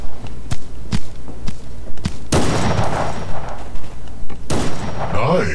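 Rapid gunfire rattles in a shooter video game, a series of sharp, evenly spaced shots early on, then two heavier bursts of fire with a noisy tail, loud and close.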